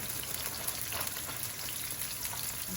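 Food frying in a pan during Southern home cooking makes a constant, faint, crackling sizzle with small pops. It runs steadily and close, and no one speaks.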